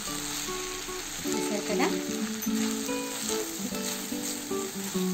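Mixed vegetables fry in a pan over medium flame, giving a continuous close sizzle with some stirring, while a voice talks briefly over it.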